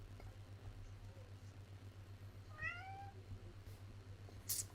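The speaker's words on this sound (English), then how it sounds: "That's my cat, Princess." A house cat gives a single short meow, quiet and fairly close, rising over a steady low electrical hum with no one speaking.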